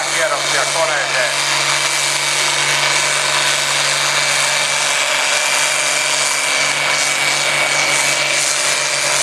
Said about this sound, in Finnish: Voisio pistää vähän kierroksia koneeseen